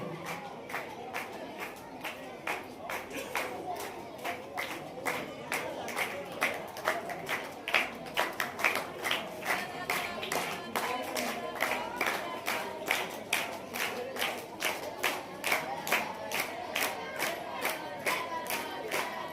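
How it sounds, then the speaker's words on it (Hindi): An audience at a school Independence Day event claps steadily in a rhythmic, sustained beat, loud and continuous, with crowd voices and cheering underneath. "तालियां बजती रहे।"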